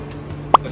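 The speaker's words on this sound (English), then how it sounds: "I'm going to add" Boiled corn kernels dropped into a pan of garlic butter shrimp with salted egg give one short, soft plop near the middle, close by, over a faint steady hum.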